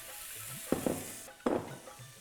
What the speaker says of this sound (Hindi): अभी घी लिया है मैंने और ये छोले डाल दिए